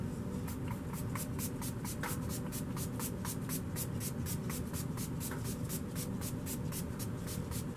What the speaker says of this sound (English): let's do a little bit of setting spray